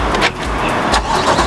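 A Chevrolet Corvette Stingray 1LT starting by remote, with a loud, close engine crank and catch that settles into a steady idle rumble.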